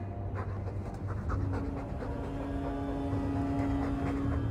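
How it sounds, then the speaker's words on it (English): Dog panting in the video game Dragon Age 2, a steady rapid breathy rhythm close up and fairly loud, continuing throughout over a low ambient hum with no talk. "All that noisy dog breath, day in, day out."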